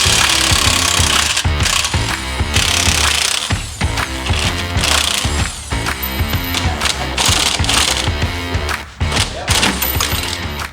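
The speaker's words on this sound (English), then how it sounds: "Using our impact and our 21mm socket, we're going to loosen up the U-bolts." Impact wrench with a 21mm socket loosening the rear U-bolts on a Chevrolet Colorado ZR2's leaf-spring axle, firing loud, rapid hammering bursts with short pauses between them throughout.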